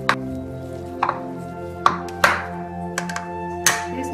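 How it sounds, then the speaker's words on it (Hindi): A spoon mashes boiled potatoes in a bowl for Punjabi aloo paratha filling, giving several separate soft thuds and taps at an irregular pace over a steady low hum, with no talking. "सब तो पहला आलूआं नूं मैश कर लवांगे"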